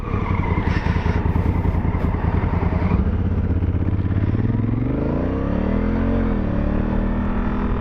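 A Honda Africa Twin motorcycle engine idles loudly and steadily close by, then revs up and down in rising and falling sweeps.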